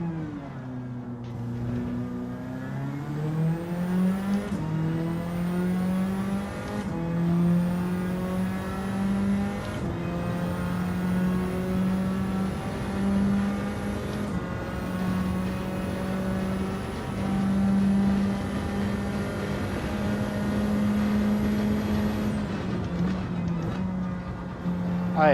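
A race car engine from the Gran Turismo 7 video game drones steadily through a long race. It rises and dips in pitch with repeated gear shifts and holds at high revs for the whole stretch.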